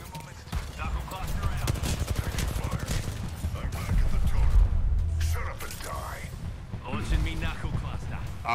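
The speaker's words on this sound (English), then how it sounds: "Shots fired at me." Rapid bursts of gunfire crackle through a video game firefight, dense and continuous for several seconds, with a player's voice talking over the shooting.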